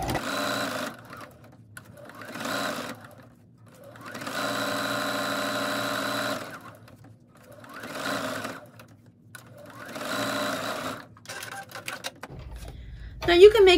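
A home sewing machine stitches fabric ear savers for face masks, including back-stitching at the start and end. It runs in several steady, buzzing bursts separated by short pauses, with a voice talking during the quiet gaps.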